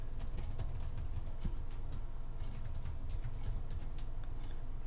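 Rapid, irregular keystrokes on a computer keyboard while an online website order form is filled in, light clicks pattering steadily over a low background hum, fairly quiet and close, with no talking.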